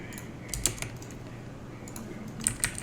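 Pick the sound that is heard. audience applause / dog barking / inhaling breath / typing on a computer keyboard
typing on a computer keyboard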